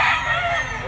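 Stag rooster crowing at a pet market: a loud, close crow sustained through the whole short moment over a noisy crowd background.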